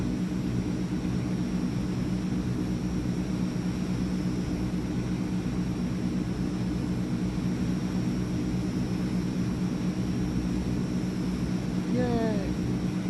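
Transall C160 cargo aircraft flying through rain in Microsoft Flight Simulator, a steady loud engine drone with rain noise, continuous throughout, with a brief rising tonal sweep near the end.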